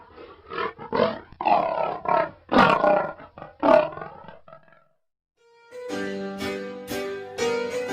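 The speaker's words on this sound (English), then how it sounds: "And now the lion says." A lion gives loud, deep roars in a few repeated bursts, following a stretch of earlier vocal sound and a short silence.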